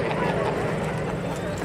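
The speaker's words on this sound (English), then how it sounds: "as the Northeast Raiders come through with their break to landing" Northeast Raiders formation of Red Star aircraft breaking to land at the 2010 Greenwood Lake airshow, a loud continuous engine roar sweeping past, with an announcer talking over it.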